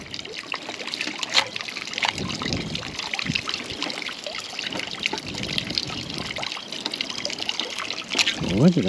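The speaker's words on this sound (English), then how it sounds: "I'm wasting all this water just running away." Rainwater from a swimming-pool capture barrel setup trickles and runs off steadily nearby, a continuous dribbling stream with small splashes and no talk.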